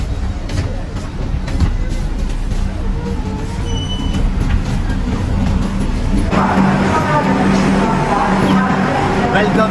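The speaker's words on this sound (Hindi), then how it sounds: "फाइनली 9:13 में मेरी ट्रेन मुझे पहुंचा देती है मेरा डेस्टिनेशन।" Passenger train pulling into Hajipur Junction, a steady rumble of rolling wagons with rail noise that swells and brightens toward the end, steady and fairly loud throughout.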